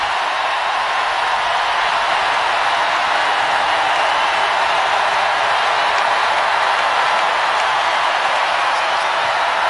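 A women's college basketball crowd at LSU versus South Carolina stands and roars during a tight 1-point game, a steady, loud wash of cheering that holds without letup.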